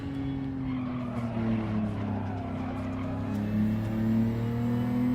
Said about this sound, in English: Hear the engine hardly doing any work.